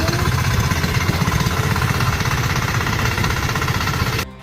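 Heavy, fully loaded GN tractor engine labouring down a steep, muddy path, a loud continuous rumble with rapid knocking, rattling pulses and vibration throughout, cutting off abruptly near the end.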